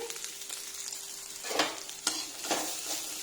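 Oil sizzling steadily in a frying pan over fried bitter gourd, a continuous crackling hiss with a few louder bursts of spatter, no voices.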